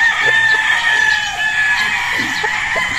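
A Gilmore gamecock rooster crows repeatedly, its bright, sustained calls rising over a steady background of other fowl clucking and crowing on a farm housing battle stags.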